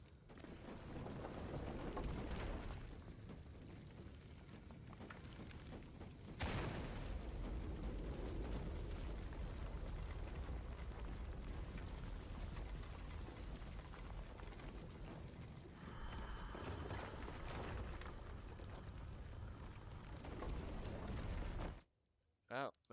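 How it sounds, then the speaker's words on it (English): Explosions in the video game Shadow of the Tomb Raider, a sustained roaring rumble with a sudden louder blast partway through, continuing to the end. "Another explosion would raise the platform."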